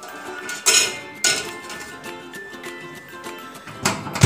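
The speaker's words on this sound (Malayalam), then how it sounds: "അപ്പോൾ നമുക്കിതൊന്ന് ഓവനിലേക്ക് വെച്ച് കൊടുക്കാം." A cookie plate being placed into an oven, with a few distinct metallic clinks and clanks of the plate and oven rack spaced across a few seconds, close and fairly loud, with no talking.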